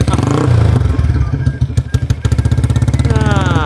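A motorcycle engine running close by, rumbling and idling with steady pulsing clatter, then revving slightly toward the end.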